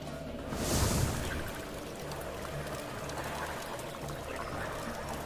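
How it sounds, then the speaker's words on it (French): Toilet flush sound effect in the Puy du Fou video game menu on Switch, a rushing gush of water near the start settling into a steady watery trickle, mixed with other menu ambience. "Pourquoi il y a la chasse d'eau dans le menu?"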